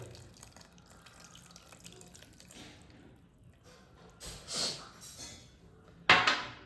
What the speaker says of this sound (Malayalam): ആ ഒരു മുറി തേങ്ങാപ്പാൽ ഇതിലേക്ക് ഒഴിക്കുക